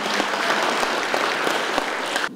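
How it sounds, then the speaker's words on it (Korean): Dense, steady applause from the audience at an inauguration ceremony for a new broadcasting company president, continuous and fairly close throughout with no one speaking. "박수와 환영해 주십시오."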